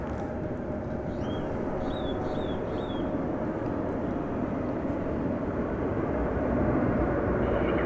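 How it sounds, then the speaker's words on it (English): A UPS Airbus A300 wide-body cargo plane comes in to land, a loud, steady engine roar that swells slightly near the end. Faint birdsong chirps over it early on. "a wide body cargo plane, an A300 UPS flight 9775 coming in from Houston Intercontinental Airport"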